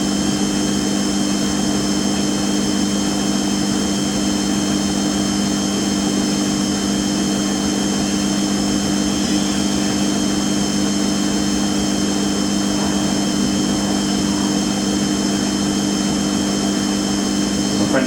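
A Gorenje UseLogic WA 8 washing machine spins at high speed, giving a loud, steady, close whine with a strong motor hum that holds without letup, no voices.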